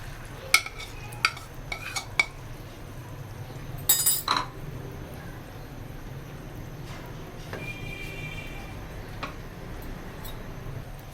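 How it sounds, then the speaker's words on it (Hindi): A spoon stirs milk-soaked semolina halwa in a pan over a low flame, giving soft scraping strokes and a few sharp metallic clinks against the pan, mostly with no one speaking. "इस तरह हमने इसके चम्मच चलाते रहना है"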